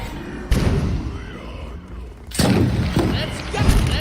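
Detonating unstables explode in the Pillars of Eternity video game, two heavy booming blasts about two seconds apart followed by further thumps, loud and close, with people talking between the explosions.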